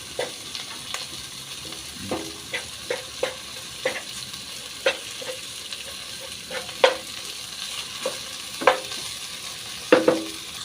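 Miso is stirred into a pot of salmon head sinigang, a soft simmering bubble underneath while a utensil knocks and scrapes the pot in irregular, fairly quiet taps.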